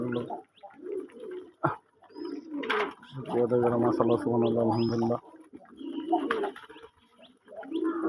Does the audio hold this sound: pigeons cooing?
yes